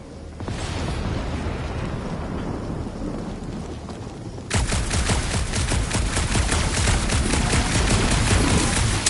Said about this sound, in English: Shooting your way out of every problem again, Peter?